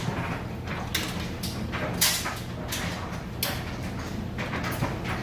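A Whirlpool high-efficiency electric dryer runs on timed dry, its steady drum hum broken by a series of soft thumps as clothes tumble and drop inside, close and moderately loud with no talking.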